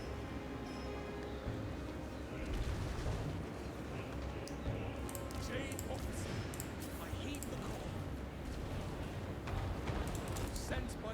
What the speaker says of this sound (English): As you can see, our missiles are causing a lot of pain to the enemy.